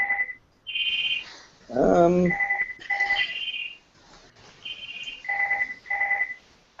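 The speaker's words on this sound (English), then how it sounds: "Stop ringing me" A telephone rings in repeated electronic trills, a steady pattern of bright bursts with short gaps and a brief louder mixed noise partway through, with no talking.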